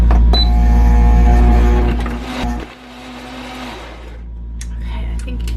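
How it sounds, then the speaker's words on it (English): A blender whirs through a frozen fruit smoothie made with almond milk, a loud steady motor drone that dips in pitch partway through as the load shifts, then keeps running. "We're gonna blend it up."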